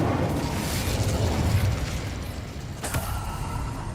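Incendio fire spell cast in Hogwarts Legacy, a whooshing fiery burst with crackling, popping texture and a sharper hit near the three-second mark, set against continuous battle noise.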